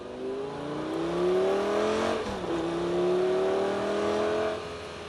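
A Lamborghini Gallardo sports car engine revs up steadily, its pitch climbing, dipping briefly, then rising again as it accelerates, loud and close.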